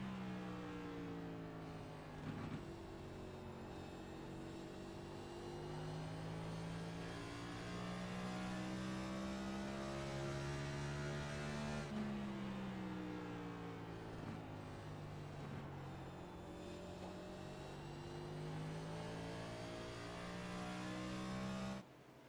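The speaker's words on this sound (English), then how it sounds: "these guys using that sequential gearbox, going from 4th to 5th gear on these straightaways" Next Gen Cup Series stock cars in a sim racing game at Richmond, engines droning loud and steady down the straight, with pitch climbing and dropping around a sequential gearbox shift from 4th to 5th.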